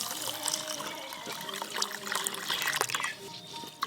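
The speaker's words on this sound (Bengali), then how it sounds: "2-3 বার জল দিয়ে খুব ভালো করে ধুয়ে নেব।" Gobindobhog rice being washed in a bowl of water, a steady close wet swishing and trickling with small splashes running throughout, no voices.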